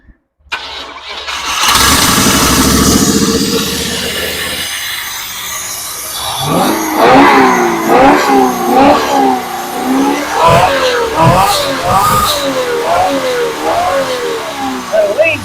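A Vortec 350 small-block Chevy 5.7L V8, converted from EFI to carburetor, cranks and fires up for its first start, then idles roughly with repeated loud revs and pops, close by.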